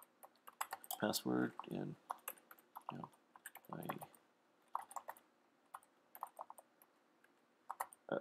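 Keys typed on a computer keyboard while entering a command-line command, short bursts of clicks spread across the clip, with a person speaking over them.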